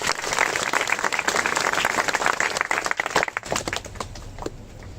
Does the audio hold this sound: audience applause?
yes